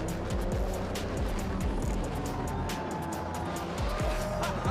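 Real-life Hot Wheels cars roar around a six-story double loop, engines loud and continuous with squealing tires and repeated rising and falling sweeps as the cars pass close.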